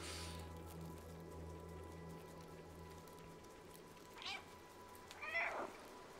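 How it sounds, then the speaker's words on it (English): A cat meows twice in the video game Stray, short and fairly close, over a low, steady ambient hum with faint pattering in the background. "Press B to meow."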